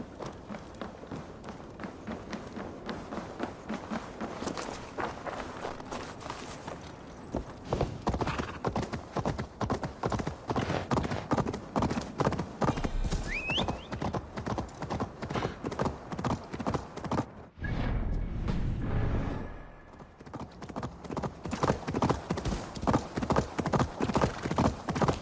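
Horse hooves clip-clopping in a steady trotting rhythm, close and clear, from the Viking Age setting of Assassin's Creed Discovery Tour, continuing almost without pause with a brief lull near the end.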